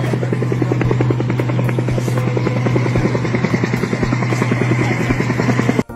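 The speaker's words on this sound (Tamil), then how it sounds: "சீலிங் ஃபேன் என்ன ட்ரோன் மாதிரி சுத்திக்கிட்டு இருக்கு" A ceiling fan at a college Teachers' Day function spins fast with a loud, steady whirring buzz like a drone or helicopter, unbroken until a sudden cut at the end.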